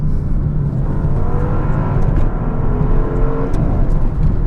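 A 2022 Maserati Ghibli Trofeo with a Ferrari-built engine, heard as a sustained loud engine drone and whir from inside the car, steady with slight rises in pitch, no voices.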